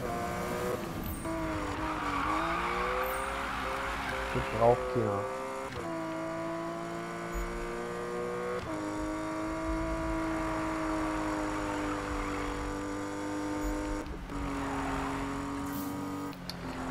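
A Porsche 911 GT3 RS revs and drives through Need for Speed, its engine note climbing and dropping steadily through gear changes, with a brief tire squeal, while someone talks over it.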